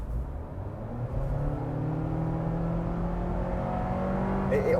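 A 2023 Honda CR-V turbo engine accelerating at full throttle in normal drive mode, its tone climbing steadily and growing louder over several seconds, heard alone and close from inside the car.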